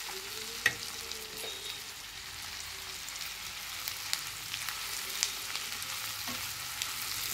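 Chili chicken fries in a pan with a steady close sizzle, broken by a few sharp scrapes and taps of a spoon as it is stirred.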